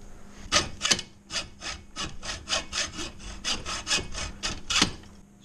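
Hand saw cutting through a Yamaha TW200 motorcycle part to shorten it, about a dozen steady back-and-forth rasping strokes close to the listener with no talk.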